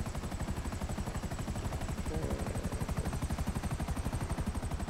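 Helicopter rotor in Grand Theft Auto V, a steady rapid chopping thump that runs throughout, loud and close with no pauses.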